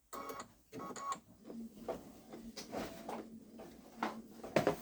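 A Babylock Solaris embroidery machine stitches an Easter design, a close, repetitive mechanical clatter and thumping pattern that pulses steadily throughout with no talk.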